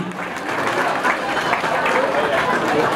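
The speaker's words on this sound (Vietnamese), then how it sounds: "Xin một tràng pháo tay cho Á hậu duyên dáng Nguyễn Jenny" A crowd at a community pageant in San Jose, California, applauds a runner-up with broad, continuous clapping that swells after a softer opening and holds steady, with a murmur of chatter underneath.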